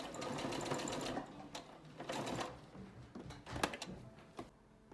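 A home sewing machine running fast bursts of stitching on a triple-layer cotton mask with wire, including a back tack, heard as whirring motor runs broken by short pauses and clicks.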